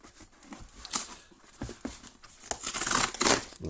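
Cardboard and plastic wrapping are torn open on an Amazon package holding a UMIDIGI A3 Pro phone, close-up ripping strokes and crinkling in short uneven bursts, growing louder near the end, with no talking.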